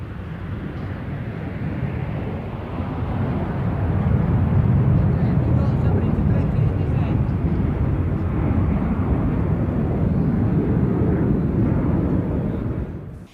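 A Martin Baker Gloster Meteor jet roars past at the 1996 Duxford airshow, a broad rumbling drone that swells after a few seconds and holds, with a narrator's voice talking over it.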